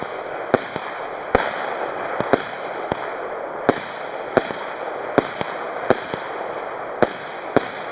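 Small 20 mm firework shots burst in a steady series of about a dozen sharp cracks roughly every half second to second, each with a crackling tail, over a continuous hissing background with no talk.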